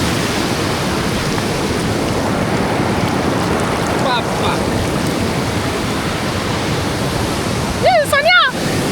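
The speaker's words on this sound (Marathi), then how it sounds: "चला धबधब्यात जाऊया" Kondeshwar waterfall at Kamshet roars as a loud, steady broadband rush of falling water throughout. Brief vocal sounds come in near the end.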